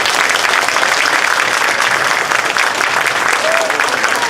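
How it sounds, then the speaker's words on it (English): Loud, sustained applause from a standing crowd at a congressional district convention, dense and even from start to finish with no pauses. "please stand up and give them a round of applause"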